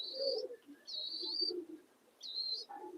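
Soft racing pigeon coos alternate with a few high chirps at a pigeon loft, quiet and close, with brief pauses between calls.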